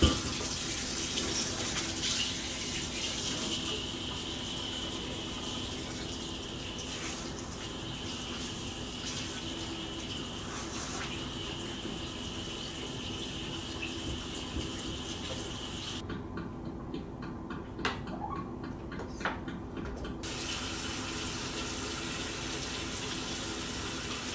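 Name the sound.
water running while washing a kettle grill part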